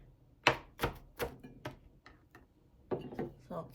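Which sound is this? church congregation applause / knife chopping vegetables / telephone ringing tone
knife chopping vegetables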